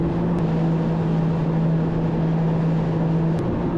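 A WaveRunner personal watercraft cruises across Great Sacandaga Lake, giving a steady, close engine drone with a constant tonal hum and rushing wind and water noise that never lets up.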